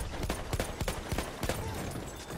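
Horse hooves in the Battlefield 1 video game, a quick run of soft, rhythmic clip-clop beats over a low battlefield background.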